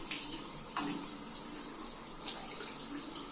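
Water pours and splashes steadily for a few seconds, a broad continuous gush with brief louder surges, fairly close and without talk.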